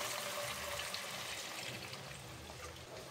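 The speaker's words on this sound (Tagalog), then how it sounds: "Ilagay na natin ang 4 to 5 cups na tubig." Water is poured steadily from a cup into a pot for chicken corn soup, a continuous close splashing, gurgling stream with no pauses and no talk.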